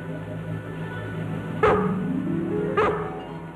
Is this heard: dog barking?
yes